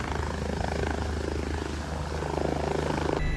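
A medical flight helicopter lifts off smoothly, its engine and rotor producing a loud, steady, close drone that holds throughout without pause.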